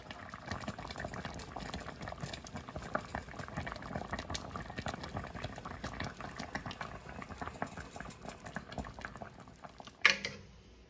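A pot of chicken and dumplings boils on the stove, giving off a steady, close bubbling and gurgling that runs throughout. A short sharp clink sounds near the end.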